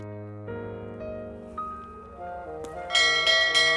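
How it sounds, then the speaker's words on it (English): A bell rings repeatedly in The Whispered World adventure game, several clear chimed strikes building over a sustained musical tone and growing louder and brighter toward the end, with no voices. "Are you ringing the bell again?"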